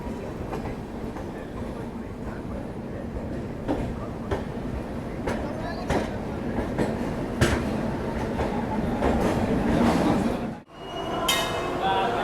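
Millennium Superfast Express running, heard from inside a 3rd AC coach: a steady loud rumble with rhythmic clicks of wheels over rail joints, a sudden brief dip near the end, then the rolling noise resumes.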